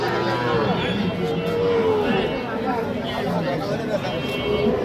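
Sahiwal bull calves at a busy cattle market give several loud, drawn-out moos over a dense crowd babble and chatter.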